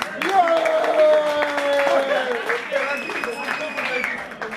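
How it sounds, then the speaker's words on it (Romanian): A crowd applauds in encouragement at a drumming session, with sharp, sustained clapping heard beneath a loud, tonal voice that rises and holds notes over it. "Aplauze de încurajare!"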